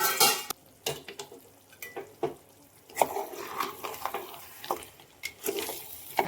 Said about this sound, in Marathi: आता बघूया आपण झाकण उघडून.